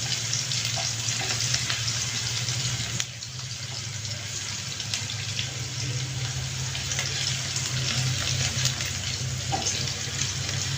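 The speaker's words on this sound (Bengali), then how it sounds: "তো পেঁয়াজটা আমি ভেজে নিলাম" Onions frying in a pan for Bengali egg bhuna, a steady close sizzle with soft stirring scrapes running throughout, easing slightly partway and continuing alone without talk.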